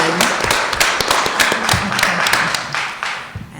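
Audience claps for a woman at a community reentry event, brisk close-up clapping from a modest crowd that holds steady throughout, with a few individual sharp claps standing out.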